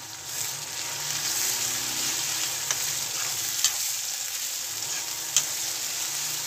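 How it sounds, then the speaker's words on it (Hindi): Chopped onion and garlic fry and sizzle in a pan in a home kitchen, a soft continuous hiss broken by a few sharp scrapes and clinks as the mixture is stirred. "रंग बदल लिया लहसुन ने और इसके साथ ही जाएंगे प्याज इसको अच्छे से जो है मिक्स कर दूँगी"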